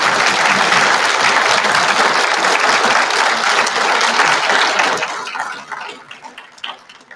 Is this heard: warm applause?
yes